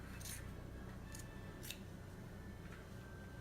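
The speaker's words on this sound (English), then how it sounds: "You need to cut your seams down a little bit." Scissors trim the fabric seams of a handmade pencil skirt in several short, faint snips spaced a second or so apart, over a quiet steady background hiss with no talking.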